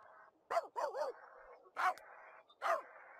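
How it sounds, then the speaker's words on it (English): A dog in The Sims 3 video game barks in a few loud, close yips and bow-wows, separated by short pauses, over a steady game background tone. "There's a dog Kia too"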